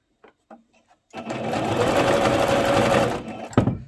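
A sewing machine stitching beaded fabric, running in one steady loud whir for about two seconds, preceded by a few faint taps and ending with a sharp clack.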